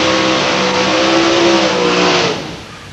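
A drag racer powered by a 316 cubic inch 8-cylinder Chevy engine roars loudly at close range at London Motorsports Park, a raw, sustained blare that fades as the car pulls away.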